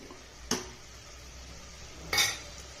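Sprouted horse gram roasts in a pan while a ladle stirs it, giving two distinct metallic clinks and scrapes against the pan over a faint, steady background hiss.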